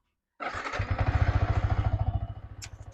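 A Yamaha R motorcycle engine starts and settles into a steady, throbbing idle with a rapid, even pulse, close by and fairly loud.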